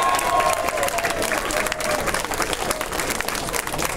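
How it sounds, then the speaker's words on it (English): Loud, steady applause and cheering from a crowd at an arcade expo costume contest, sustained throughout with some voices mixed into the clapping. "let's hear some significant applause for these guys"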